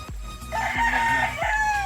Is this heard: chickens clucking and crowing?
yes